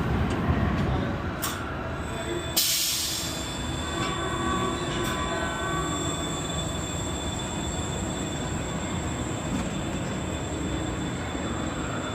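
Rattling wheels on track and a steady mechanical rumble from the front seat of El Loco, a roller coaster at Circus Circus Adventuredome, with a few sharp squeals and clanks early on, then a continuous, moderately loud ride noise without talking.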